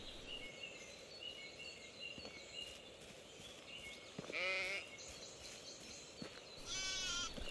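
Sheep bleat in the medieval village of Medieval Dynasty, several wavering calls over a soft outdoor ambience with faint birdsong, one bleat around the middle and a louder, nearer one at the end.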